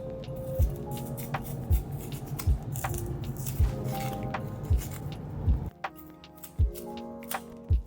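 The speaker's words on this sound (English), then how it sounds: "Then I'm going to start peeling off the skin." Plantain skin is peeled off by hand after the ends are cut off and a slit is cut down the middle. Repeated close, soft tearing and snapping sounds come in an uneven rhythm over a quiet kitchen background.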